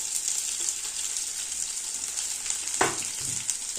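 Slit green chillies and chopped onion with garlic fry in hot oil, a continuous close sizzle with one sharp clack of a spoon against the pan partway through.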